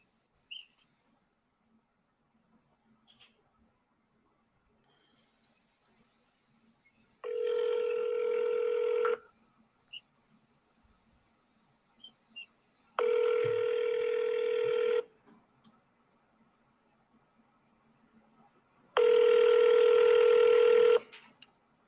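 A phone call to a property seller: three long, loud ringback tones sound in a steady pattern with quiet gaps between them, each lasting about two seconds, with faint clicks in the pauses and no talk.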